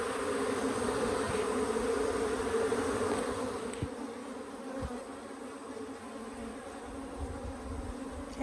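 A dense, steady hum of honey bees buzzing at a backyard hive during requeening, with a continuous drone that holds close and fairly loud throughout, and a couple of soft thumps partway through.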